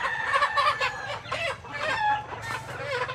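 Chickens cluck in a steady, busy stream on a farm where young hens are kept for vaccination. Several birds sound close and fairly loud, and a rooster-like call rises near the end, with no talk over them.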